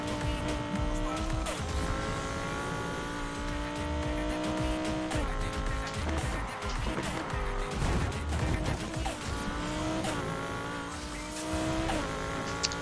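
Racing car engine revving continuously in Need for Speed Heat, with tires squealing through handbrake turns and occasional impact thuds, loud and dense throughout with no talking.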